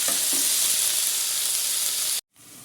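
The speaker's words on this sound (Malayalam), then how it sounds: "നന്നായിട്ട് ഇളക്കി മൂടി വെച്ച് വറുത്തെടുക്കാം" Ivy gourd (kovakka) stir-frying in a pan sends up a loud, steady, hissing sizzle that runs unbroken, then cuts off abruptly and returns more faintly.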